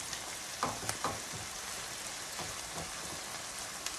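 A deer heart fries in a pan with a steady broadband sizzle and a few soft pops and clinks. It carries on close and even, with no talk.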